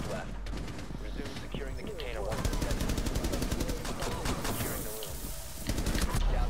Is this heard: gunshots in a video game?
yes